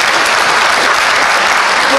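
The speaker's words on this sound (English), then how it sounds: "So, yeah, round of applause" Loud, dense applause from an audience at an inspiration night panel event, a continuous wash of clapping filling the room at close range without a break.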